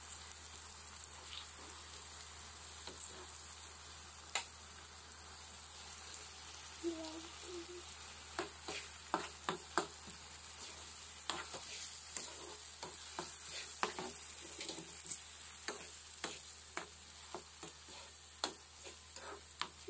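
Tomatoes and onions fry in a pan with a soft, steady sizzle, punctuated by scattered sharp ticks and pops from stirring, close but quiet, and no talking is heard.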